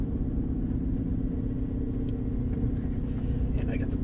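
The old 350 V8 in a 1993 Chevy G20 van idles steadily, a dense low rumble that stays even throughout, close and continuous, with faint clicks on top.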